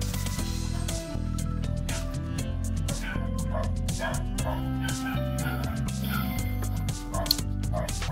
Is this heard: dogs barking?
yes